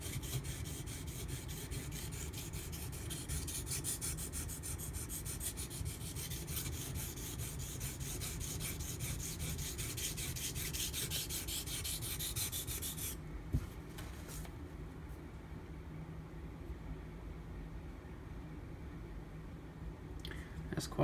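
Knife steel ground against an abrasive while a damaged convexed edge is repaired, a steady continuous rasping rub lasting throughout and close up, easing slightly toward the end, with no talking.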